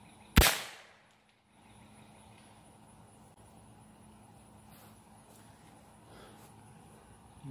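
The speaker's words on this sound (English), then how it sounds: "now that I made room in the mag for the Quiet 22s, let's go ahead and try them out." A single quiet .22 round fired from a Kel-Tec PLR 22 pistol makes one sharp, fairly soft crack that decays quickly, then faint outdoor ambience follows.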